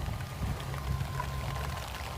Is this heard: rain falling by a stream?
yes